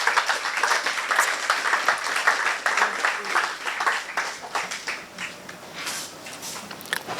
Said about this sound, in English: A round of applause one more time for Kwaku Sakyi-Addo.